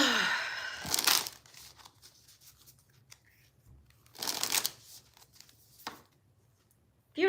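A deck of cards gets shuffled in two quick riffling bursts with brief crisp flutters between them, close and fairly faint in a quiet room, no speech.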